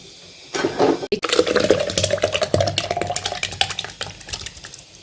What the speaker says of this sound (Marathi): आता आपण हे मिक्सरला फिरवून घेऊया